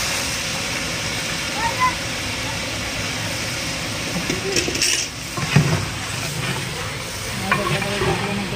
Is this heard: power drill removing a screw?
no